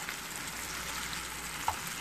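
Pork cubes sizzle with tomatoes in a hot pan, a constant close hissing crackle with a faint clink partway through, no voices over it.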